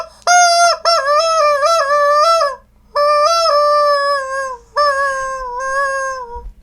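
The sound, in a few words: chicken unicorn toy played like a flute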